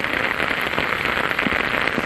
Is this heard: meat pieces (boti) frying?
no